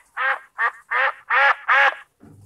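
A duck quacking five times in quick succession, loud and close, each call a short nasal burst, ending with a brief low rustle.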